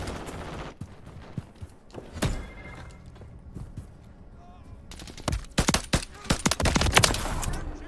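Gunfire in Call of Duty MW3 on the Sidewinder map comes as sharp bursts of rapid shots, scattered early and then a dense cluster near the end, over game ambience.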